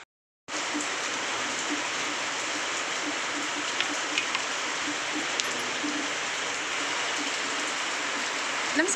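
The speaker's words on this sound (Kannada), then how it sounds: "ಇವತ್ ಮುಂಜಾನೆಗರ ಮಳೆ ಹತ್ತಿಬಿಟ್ಟೈತಿ ಫುಲ್ಲ." Morning rain falling steadily in a village, an even, hissing wash of drops heard alone throughout, with a few faint ticks of nearby drips.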